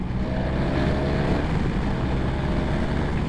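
A BMW R 1200 R motorcycle engine pulls hard under acceleration, a dense, steady low roar heard close and continuous with no talk.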